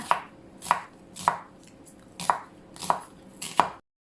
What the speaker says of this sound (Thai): ก่อนอื่นเราจะมาหั่นหัวหอมค่ะ